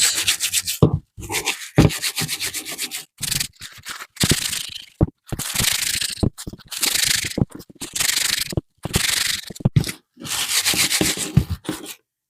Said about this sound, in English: we twist these stamens